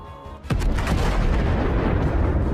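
A self-propelled howitzer blows up along with its ammunition in combat footage, giving a sudden loud blast followed by a sustained roaring, crackling rumble of burning and detonating rounds.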